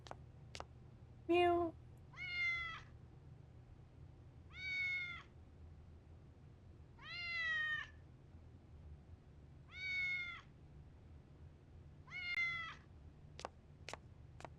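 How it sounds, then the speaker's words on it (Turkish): A cat meows in a video game, about six separate mid-length meows spaced a couple of seconds apart, clear and close over a low steady hum, with a few sharp clicks near the end. "Kedi en iyi arkadaş."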